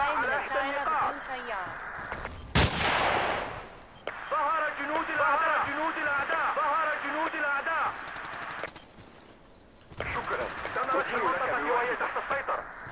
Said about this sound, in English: I'm sure I can hear gunfire still.